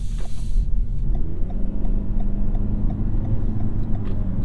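A 2022 Toyota Camry Hybrid with a 2.5-liter four-cylinder and electric motor drives along, giving a steady, loud low cabin rumble of road and engine noise that runs unbroken from start to finish.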